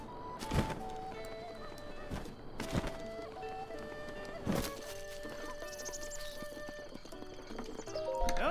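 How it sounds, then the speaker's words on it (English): Horse hooves clip-clop in Zelda: Breath of the Wild, with several sharp, close hoof strikes spread across the clip over a busy game soundscape of tonal music and effects, building louder toward the end. "we're gonna grab our horse and we're gonna take it home"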